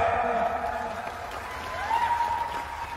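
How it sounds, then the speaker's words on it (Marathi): Crowd applause at an Indian kushti wrestling bout, clapping that swells and continues beneath a loud announcer's voice over a PA. "करा की टाळ्या"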